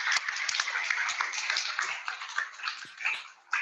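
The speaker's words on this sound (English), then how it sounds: "So a round of applause to Luke Anderson." Audience applause at a spring salon art awards ceremony, a dense steady wash of many hands clapping throughout, with faint scattered voices underneath before it briefly dips near the end.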